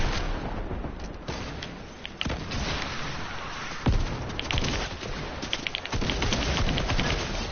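Rocket explosions and gunfire in Fortnite, several sharp blasts and cracks scattered over a rumbling, busy battle mix, one heavy boom standing out midway.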